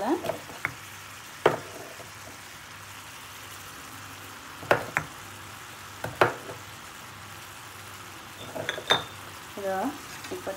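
Potato, cauliflower and pea curry frying in a pan gives a low sizzle beneath repeated sharp scrapes and clinks of a spoon stirring, spaced every second or two, with a few metallic rattles near the end.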